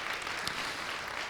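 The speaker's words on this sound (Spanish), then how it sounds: "¿Puede darle un aplauso de honra al Señor por su palabra?" Brief burst of congregational applause at a Spanish-language church service, honoring the Lord after a sermon; a dense, steady patter of many hands at moderate distance, with no talk over it.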